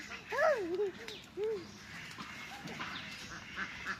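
A few nasal duck quacks ring out near the start and again a second later, over a busy outdoor background with faint voices.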